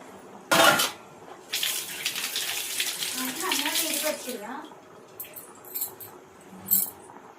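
Water poured into a cooking pot while making a Sunday-special fish pulusu, a steady splashing stream lasting a few seconds after a sharp clatter near the start, with brief clinks toward the end.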